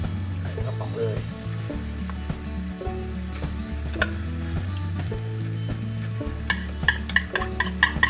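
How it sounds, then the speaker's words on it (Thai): Coconut milk bubbles in a pot as green curry paste fries for Thai green curry. Steady sizzling comes with repeated scraping stir strokes, and sharper clinks near the end. "เดือดนิดนึงพี่เดียวครับไม่ต้องเยอะ อยากให้มันแตกมันนะครับ"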